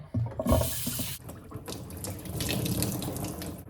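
Tap water runs into a container at a sink while fiber is being rinsed and dyed, a steady close splashing rush that cuts off partway through, leaving softer trickling and background noise.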